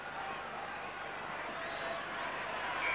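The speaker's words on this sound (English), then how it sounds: "Reasonable crowd here at Brookvale today." A steady crowd murmur fills the ground at a 1980 Manly versus South Sydney rugby league match at Brookvale, a broad, distant wash of voices running continuously beneath the broadcast.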